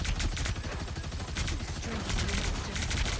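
Rapid gunfire from a hero shooting at enemy tanks in a Marvel Rivals ranked match, dense repeated shots with busy game effects and some voice underneath throughout.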